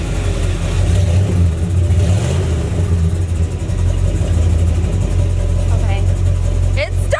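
A Ford F250 truck engine runs loud and close, with a heavy low rumble that swells as it revs and then holds steady. A person speaks over the engine, and a few sharp noises come near the end.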